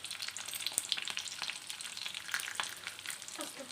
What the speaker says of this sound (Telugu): ఇప్పుడైతే ఎగ్స్ ఫ్రై అయిపోతున్నాయి మంచిగా.